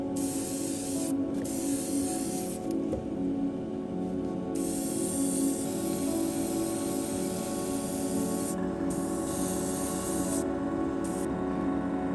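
An airbrush sprays AK Carc Tan paint onto a plastic model kit of a JLTV military vehicle, giving a steady close hiss broken by short pauses between passes.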